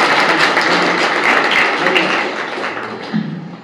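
Dense clapping from an audience welcoming a guest at a talk event, a steady patter that tapers off toward the end.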